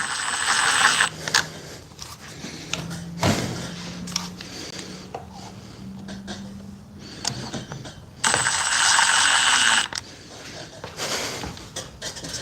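DeWalt, Milwaukee and FLEX battery impact drivers run in a test. Two loud bursts of rapid rattling hammering stand out against quieter mechanical clicks and handling noises, close up with no talk.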